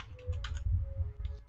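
Soft, quick keystrokes on a computer keyboard while code is being typed, coming in short irregular bursts at close range over a low background hum.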